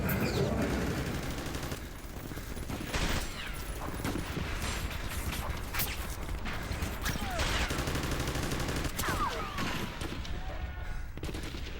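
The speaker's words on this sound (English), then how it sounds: "Hey, hear that? Those sound big. It's a tank. An Abrams." Abrams tank cannon fire in an Xbox 360 video game demo: loud, dense battle noise with repeated heavy blasts and crackling gunfire layered throughout, without a break.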